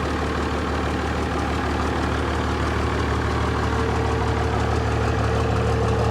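A 1994 truck's 12-valve diesel engine idles steadily throughout, a loud, close, continuous low rumble with a faint knocking texture and no voices.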